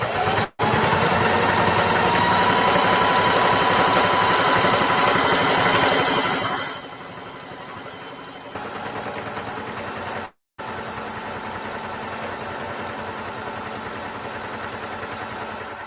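A sewing machine stitching a fabric handbag, a loud, steady mechanical whir running for several seconds, then a quieter, lower hum after a brief pause, with short stops between runs.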